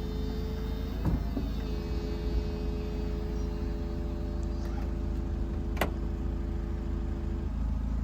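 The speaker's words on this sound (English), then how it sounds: "Yeah, so that's the roof working." A Peugeot 206cc convertible's electric roof mechanism runs with a steady motor whine and hydraulic hum, broken by a few clicks and clunks as the panels move.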